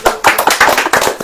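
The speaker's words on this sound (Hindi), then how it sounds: "ताली बजाओ।" A church congregation claps hands together in a loud, close, quick rhythmic beat, sharp claps repeating several times a second with no voices heard.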